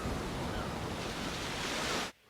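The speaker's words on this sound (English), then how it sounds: "You're at the beach. The waves are coming in." Ocean surf at a beach roars in a steady, full wash of breaking waves for about two seconds, then cuts off abruptly.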